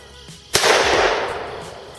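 A single sharp shotgun blast, a blank loaded with .22 pellets, cracks out loudly after a quiet moment and rings off into a decaying outdoor echo.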